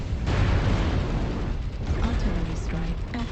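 An artillery strike in the MechWarrior Online video game brings a dense, continuous roar of booming explosions and mechanical clatter, loud and sustained throughout with faint voice lines mixed in.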